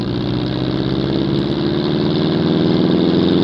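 An air-cooled car engine in BeamNG.drive hums in a loud, steady, low drone, running evenly and up close without a break.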